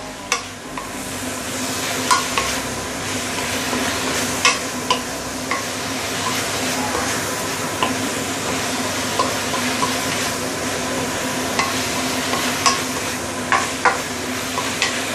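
Roast pork and leeks stir-frying in a wok over high fire, a loud steady sizzle throughout with regular metallic taps and scrapes of the spatula chopping and tossing; no voices.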